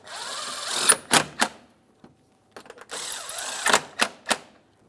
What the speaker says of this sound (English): Start in those long 10mm headed mounting bolts, snug them up